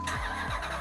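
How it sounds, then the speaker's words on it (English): A 2004 Dodge Rumble Bee Hemi truck with a reported motor noise cranks and fires up, a brief loud starter whir catching into a low engine rumble, close by with no talking. "Supposedly it's making motor noise. I haven't heard it yet, but I'm getting ready to fire it up."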